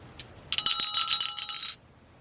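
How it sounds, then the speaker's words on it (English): A small Christmas ornament bell with a clear acrylic face rings in a bright, sustained jingle for about a second before cutting off, close and clear with no talking. "This isn't very vintage, but it's a bell with the clear acrylic face for the deer."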